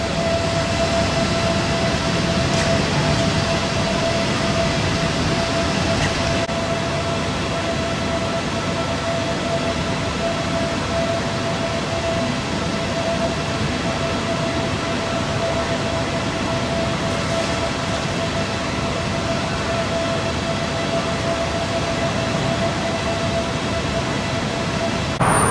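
Steady rail-station ambience at Bangkok's central railway station, a continuous broad rumble with a sustained tonal hum, like idling trains or locomotives, holding level throughout with no talk.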